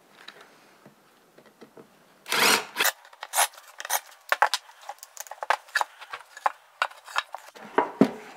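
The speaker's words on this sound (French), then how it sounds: "je viens chanfreiner ma planche de manière à pouvoir insérer les vis facilement" A wooden board is chamfered by hand so screw heads will sit flush, heard as close, sharp rasping scrapes in quick irregular bursts after a quiet start.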